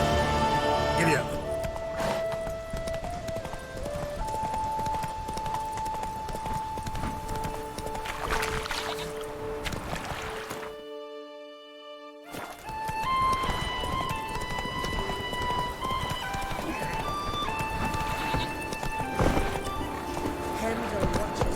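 Horse hooves gallop in The Witcher 3, a fantasy video game, as a steady fast clip-clop runs nearly throughout with a brief neigh. Music tones and talking sit over it, and a short silent gap comes midway.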